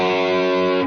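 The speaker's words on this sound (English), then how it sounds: "So throw some distortion on" A sustained, heavily distorted electric guitar chord rings out loud and steady, thick with buzzing overtones, with no voices.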